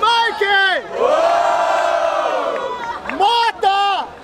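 A crowd at a street rap battle, the Batalha da Aldeia in Barueri, São Paulo, erupts in loud cheering and rhythmic shouting, with bursts of chanted yells at the start and end and a sustained roar between.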